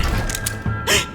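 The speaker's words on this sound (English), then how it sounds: "Someone's getting out of the elevator." Elevator machinery in a Fallout audio drama clunks and creaks as the car arrives, followed by a quick mechanical slide of the doors opening, all brief, loud and close.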